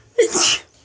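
A single sharp, loud human sneeze, close up and short, standing alone with no talk over it.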